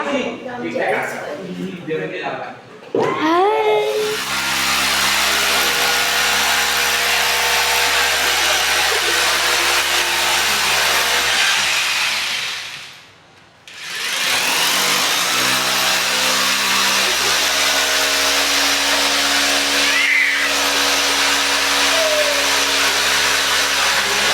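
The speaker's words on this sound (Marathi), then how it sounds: "जशी ड्रिल मशीन सुरू झाली" A power drill whines loudly and steadily for most of the clip, briefly stopping before starting again, with a few faint voices at the start.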